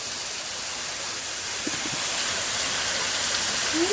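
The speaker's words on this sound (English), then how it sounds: "Johnny's not the only one to shower under this waterfall in Refuge Bay." A waterfall in Refuge Bay pours with a steady, loud broadband rush that fills the whole clip and swells slightly toward the end, with a person showering beneath it.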